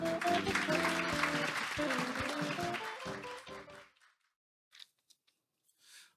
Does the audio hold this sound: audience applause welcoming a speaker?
yes